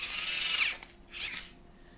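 A Dollar Tree electric pencil sharpener grinds a pencil in two short, close whirring bursts, the second quieter, with a brief pause between them.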